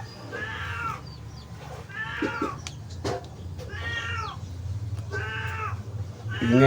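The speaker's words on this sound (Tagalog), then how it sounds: "ingay ng pusa" A cat meows repeatedly, four drawn-out cries spaced a second or so apart, close and clear over a low steady hum.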